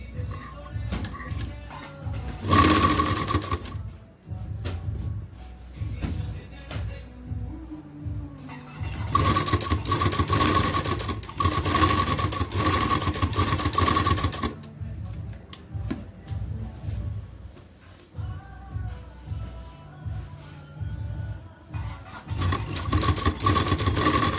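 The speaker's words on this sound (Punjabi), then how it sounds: "ਹੁਣ ਆਪਾਂ ਇੱਕ ਟੌਪ ਸਲਾਈ ਲਗਾਵਾਂਗੇ" A sewing machine runs top stitching along lace on an A-line shirt, with two long whirring, rattling bursts of motor and needle noise, close and loud, and quieter handling sounds between them.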